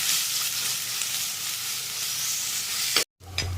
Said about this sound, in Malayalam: അതിലേക്ക് നമ്മൾ ചതച്ച് വെച്ചിരിക്കുന്ന വെളുത്തുള്ളിയും ഇഞ്ചിയും കൂടെ ഒരു ടേബിൾ സ്പൂൺ ഇടുന്നതാണ് ഇനി അത് ചെറിയ വഴന്ന് വരട്ടെ